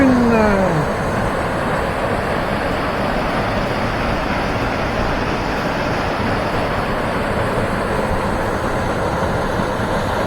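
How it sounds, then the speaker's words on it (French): The first of the Jassy waterfalls in Auvergne's Cézallier pours with a constant, dense rushing roar, close and loud, after a brief whistle-like tone at the start, and no one speaks. "Et voilà la cascade numéro 1."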